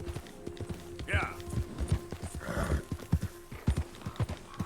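Clip-clop of horse hooves in Red Dead Redemption 2, a steady trotting rhythm close by with a brief whinny partway through and occasional talk over it.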